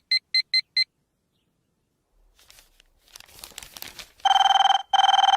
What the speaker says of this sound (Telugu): ఈ ఫోన్ లో చంపేస్తున్నా